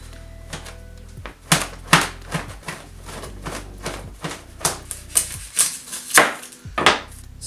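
A colorful kitchen knife chops garlic on a board in irregular, crisp taps, some sharp and close, with quiet pauses between bursts.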